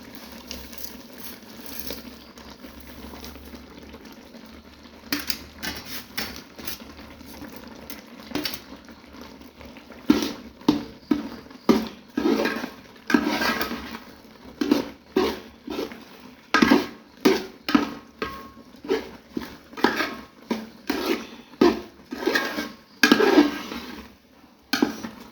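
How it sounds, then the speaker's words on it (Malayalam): Beans are dry-roasted in a pan, with quiet rattling at first. After about ten seconds, loud rhythmic scraping and stirring strokes begin and repeat close by until the end. "നമ്മൾ പ്രഥമന് എടുക്കാൻ പോലെ തന്നെ നല്ല മൂക്ക വറക്കണം പയർ."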